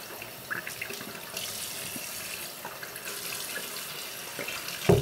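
Tap water runs steadily into a bathroom sink for rinsing the mouth during a nighttime routine, a continuous close splashing stream lasting throughout with a brief clunk at the end.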